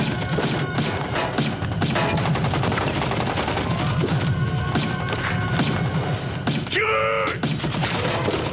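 Film battle gunfire, a dense continuous fusillade of rapid shots and thumps that stays loud and close for the whole stretch, with a brief mechanical whine near the end.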